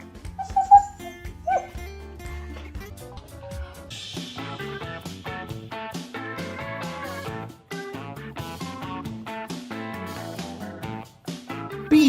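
A pet dog gives short yips and a few barks mixed with high whimpers, close by, with music playing throughout.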